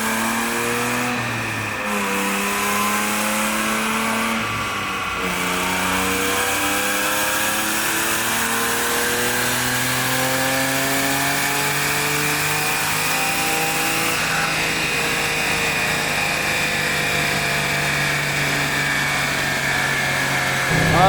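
A turbocharged car engine revs steadily and loudly through a long dyno pull, climbing in pitch through the gears toward high speed in fifth, with an exhaust leak and no boost being made; no talk over it.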